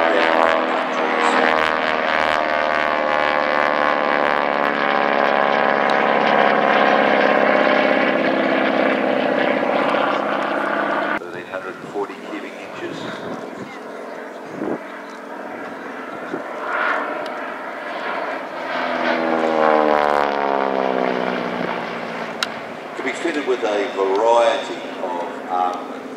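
A North American Harvard propeller aircraft flies at the Midland Air Festival 2018, its loud, droning engine shifting in pitch as it passes, easing off briefly, then swelling again.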